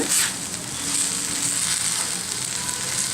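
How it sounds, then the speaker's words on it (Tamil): Spinach wilting in a hot pan for spinach dhal, a steady close sizzle with a brief louder burst at the start, continuing alone without any talk. "ஒரு 1 நிமிஷம் வதங்கினா போதுங்க. கீரை வதங்கிட்டுருக்குங்க."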